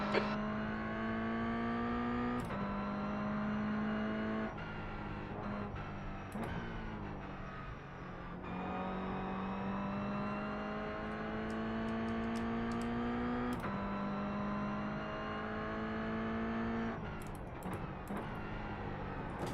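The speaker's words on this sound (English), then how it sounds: "There's a car approaching." A race car engine in the iRacing sim racing game drones steadily and loudly, with repeated revs that climb and then drop at gear shifts. No voices are heard.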